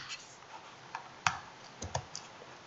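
Sparse keystrokes on a computer keyboard enter dimensions in SketchUp for a furniture modelling exercise, a handful of quiet, irregular clicks with no voices.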